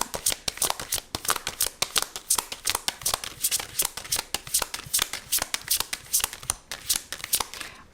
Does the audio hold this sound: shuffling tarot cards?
yes